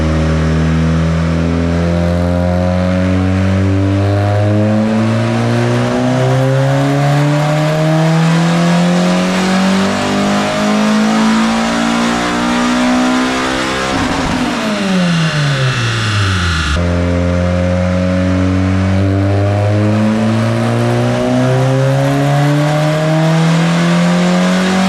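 A built, budget-turbocharged Honda engine on a dyno runs repeated hard pulls, revs climbing in long sweeping rises, dropping briefly, then climbing again, loud and close with no talk.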